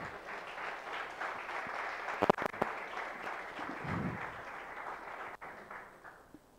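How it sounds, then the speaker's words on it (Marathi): Applause rises from a crowd at a project competition prize ceremony as a winner is honoured, steady and moderately loud throughout, with a few sharper claps standing out midway. "वरुणसाठी जोरदार टाळ्या."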